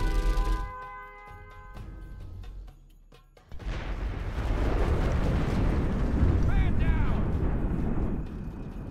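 A particle cannon blast in the real-time strategy game Generals Evolution: a loud, rumbling explosion bursts in after a brief lull and roars on for several seconds with crackling debris, following tonal game sounds.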